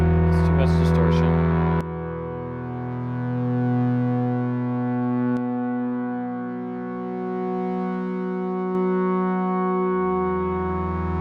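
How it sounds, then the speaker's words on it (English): A sustained synth pad from Ableton Wavetable, pushed through heavy distortion, drones as dense layered harmonic tones that swell and shift slowly, with brief clicks as settings change; a short stretch of talk opens it. "It's too much distortion."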